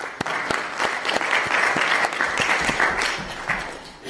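An audience at the official closing of a conference gives itself a round of applause, brisk clapping starting with a few sharp claps and swelling into a steady, fairly close wash before tapering off.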